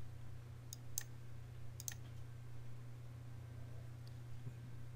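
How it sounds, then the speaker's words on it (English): Several sharp mouse clicks come in small bursts over a steady low electrical hum, close and quiet, with no voice, while working in 3D landscape software. "We'll click OK."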